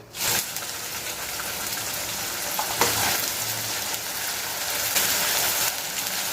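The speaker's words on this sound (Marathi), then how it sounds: "कांदा आणि खोबरं हे आपण पुन्हा वाटून घेतलेलं आहे आणि ते आता आपण तेलावर परतून घ्यायचं आहे" Ground onion and coconut paste hits hot oil and sautés with a sudden loud sizzle that settles into a steady, dense frying hiss, stirred now and then, close up and without talk.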